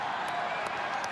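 Rugby stadium crowd in Christchurch roaring and cheering as a steady, dense wash of noise, with the stand shaking under them and a few faint whistles or whoops rising briefly above the din.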